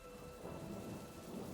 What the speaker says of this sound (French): Il pleut à mort, vraiment. Il y a du tonnerre et tout ça.